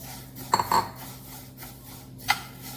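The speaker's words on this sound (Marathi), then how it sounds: "इथे मी एक पॅन घेतलेला आहे आता हे आधी तिल भाजून घेऊया" Metal pan being picked up and set down to roast sesame seeds for til laddoos, a few sharp clanks and clinks close by over a low kitchen hum.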